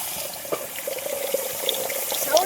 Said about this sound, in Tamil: எந்த சட்டி காஞ்சோடனே கொஞ்சம் தண்ணி ஊற்றிக்கலாம்.